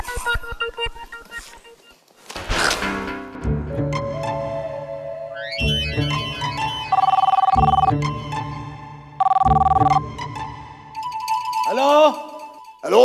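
A telephone rings in repeated electronic bursts, loud and close, among musical tones and a few other household sounds.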